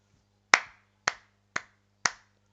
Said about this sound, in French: Je suis obligé d'applaudir